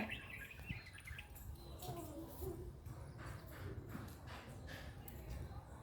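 Faint, distant birds chirp now and then over a low outdoor background, with a voice speaking quietly.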